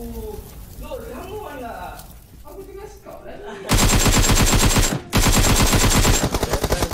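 Rapid automatic gunfire in the mobile battle royale game PUBG Mobile, loud dense bursts that start partway through and continue almost without pause, with a brief gap, after players talking over team voice chat.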